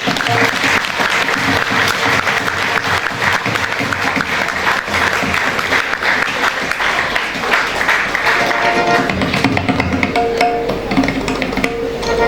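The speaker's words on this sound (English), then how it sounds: "Let's clap once again." Sustained loud applause from an audience at a school award ceremony, a continuous wash of clapping with a faint voice and some background sound mixed underneath.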